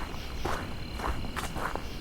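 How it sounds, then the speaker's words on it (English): Grasshoppers and crickets chirp and buzz faintly in a quiet outdoor night in October, with a few brief rustling clicks scattered through. "Also grasshoppers still carrying on, as well as crickets."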